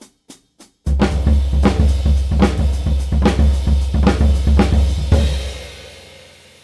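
A drum kit plays a loud, dense ending fill, with rolling toms and crashing cymbals over a sustained low kick wash. A few sparse hits come first, and a final crash decays away alone.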